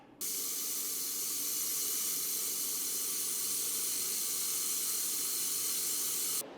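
An XLaserLab X1 Pro laser welder lays beads with wire feed, giving a steady, loud, even hiss that starts abruptly, holds for about six seconds and cuts off sharply, with no talk.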